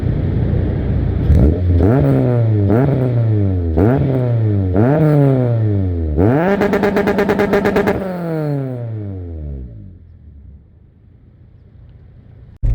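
Acura RSX Type S with a full straight pipe and K-tuned headers, revving hard in repeated rising blips, then a long sustained high-rpm wail that drops away to a rough idle, loud and close with no talk.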